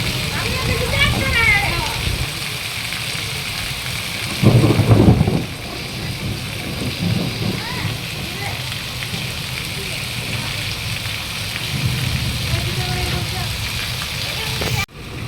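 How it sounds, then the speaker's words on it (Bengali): Steady heavy rain roars throughout, with a short, louder rumble of thunder near the middle that fades back into the downpour. "সন্ধে হওয়ার আগেই আমাদের এখানে প্রচণ্ড বৃষ্টি শুরু হয়েছে"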